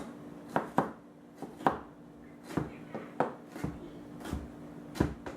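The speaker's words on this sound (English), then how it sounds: "Alright, so I'm going to cut this into slices." A knife cuts bell pepper into slices on a cutting board: a series of crisp, separate chops at an irregular pace, fairly quiet and close, with a faint steady hum underneath.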